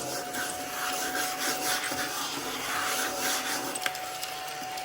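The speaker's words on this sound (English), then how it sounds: "bought this little vacuum from Walmart, believe it or not." A small handheld vacuum cleaner bought at Walmart runs with a steady whine and airy rushing, close by, with scraping and rubbing as it is moved over a surface, and no talking.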